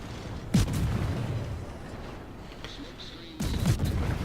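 Guns on the Akizuki destroyer fire rapid high-explosive shells in a naval battle video game, with booming shots at the start and near the end over steady engine rumble, and someone commenting throughout.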